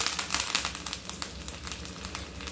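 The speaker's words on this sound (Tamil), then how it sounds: "கருவேப்பிலை பொரிய ஆரம்பிச்சிட்டு இப்போ கருவேப்பிலை போட்டு" Curry leaves frying in hot oil after mustard seeds for a Tamil paruppu kari, a bright, crackling sizzle with quick irregular pops and spits, close and steady, with no talking.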